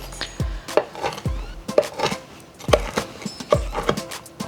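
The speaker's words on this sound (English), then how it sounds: "I'm just chopping my bacon up into small little pieces." A knife chops cooked bacon on a cutting board in quick uneven taps, close, sharp thuds coming in small bursts with brief pauses between.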